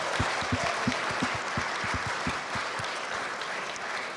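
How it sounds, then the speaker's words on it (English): An audience at a startup pitch night investment summit gives a big round of applause, a thick wash of clapping with a few loud, close individual claps punctuating the first couple of seconds before it settles. "Let's give them another big round of applause."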